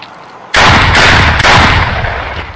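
Gunfire in Escape from Tarkov blasts in abruptly and loud, holding as a dense, roaring barrage with a couple of sharper shot peaks, close and with no talking.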